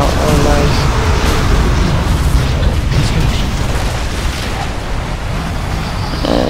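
A Scorpion vehicle blows up in the video game Unreal Tournament 3, a sustained roaring, rumbling blast that fills the mix at high volume, with a commentator talking over it.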